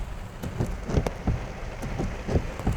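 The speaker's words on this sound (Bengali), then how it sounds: "প্রচুর বৃষ্টি হচ্ছে" Heavy rain falling during a storm near a bridge in Kolkata amid traffic, a dense steady hiss with scattered louder drop impacts and gusts, no voices.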